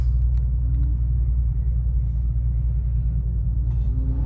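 A 2022 BMW M5 Competition's engine rumbling from inside the cabin while driving away from a car meet, a steady deep low drone with faint road noise and no talk.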